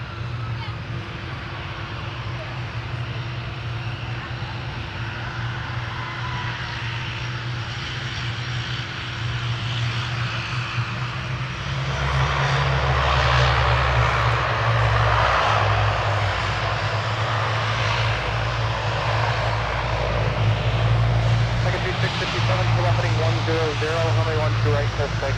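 An airliner takes off on runway 17 at Minneapolis–Saint Paul airport, its engine roar swelling steadily and holding loud for many seconds, with a tower radio voice heard faintly alongside.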